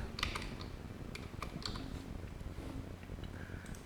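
Keys tapped on a computer keyboard while entering table content, irregular clusters of close, crisp clicks over a steady low background hum.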